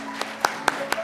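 At a church Sunday school graduation, a few claps ring out sharply and distinctly, four brisk hand claps in a short, uneven run within a quiet hall.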